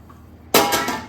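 Boiled peas tipped into a metal pressure cooker while making ragda: a quiet pause, then a sudden loud rattling clatter that keeps jangling for about half a second.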